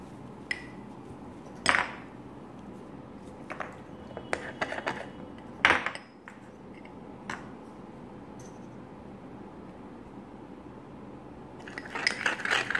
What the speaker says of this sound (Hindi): इस तरह से आपको इसमें दो चम्मच बेसन मिलाना है और अब आपको इसको जो है जल्दी से अच्छे से मिला लेना है